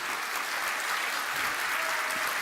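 Sustained applause from a crowd, dense and steady clapping filling the whole stretch without pause.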